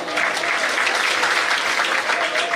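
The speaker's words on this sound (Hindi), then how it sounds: "जबरदस्त तालियों के साथ इनका स्वागत करें" Sustained applause from an audience at an award ceremony for meritorious students, a dense, even wash of clapping held loud for the whole stretch with no voices rising above it.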